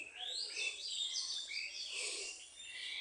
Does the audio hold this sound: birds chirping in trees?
yes